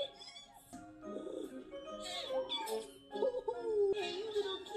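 Kittens meow in an animated cartoon scene from Amphibia, a few short, warbling high cries rising and falling close by, with some character voices alongside.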